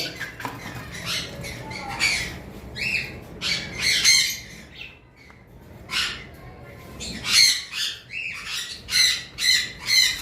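Harsh, shrill squawks from a yellow-sided conure parrot come in repeated bursts, loud and close, with short quieter gaps between calls.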